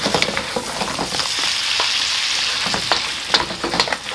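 Lobster stir-frying in a wok with white wine for a Cantonese scallion ginger dish, a loud continuous sizzle and hiss broken by clattering strokes of a spatula as it is tossed, up close.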